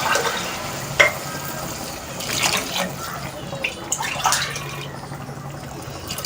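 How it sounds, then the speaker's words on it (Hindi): Water is poured onto rice in a cooking pot while matar pulao is made, giving a soft splashing and trickling with a few drips, fairly close and without speech. "इसके अंदर अब मैंने 2 कप चावल लिए हैं, तो 3 कप मैं पानी ऐड कर दूंगी।"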